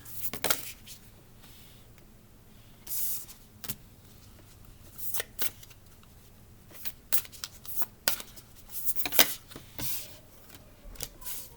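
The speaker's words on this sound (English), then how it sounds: "This deck is a little hard for me to shuffle, so give me a moment while I shuffle this one." A deck of tarot cards being shuffled up close in irregular bursts of crisp riffling and slapping, with quiet pauses between, no talking.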